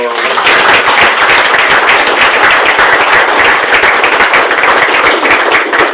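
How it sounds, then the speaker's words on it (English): Dense, loud round of applause from the audience at a chamber of commerce legislative breakfast, many hands clapping in a continuous sharp patter from start to finish with no talk over it. "let's give a round of applause to our"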